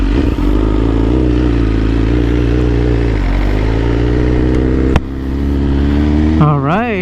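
A 2022 BMW S1000R M Package fitted with Arrow headers and an Akrapovic exhaust runs loud and close with a steady, rich engine drone, then blips the throttle near the end, the pitch rising and wavering.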